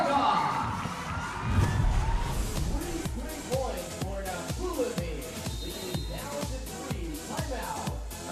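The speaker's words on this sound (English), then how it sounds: "A pro-Filipino crowd getting excited here." A pro-Filipino crowd at a beach volleyball quarterfinal in Subic Bay, Philippines, cheers and shouts in a rhythmic chant, loud and lively, with a commentator talking over it.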